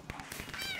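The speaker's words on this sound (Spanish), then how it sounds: "Dije gatito y empezó a sonar aquí. Un maullido." A cat meows in the Minecraft video game during Hypixel minigames, a few short soft mews repeating quickly, faint and close.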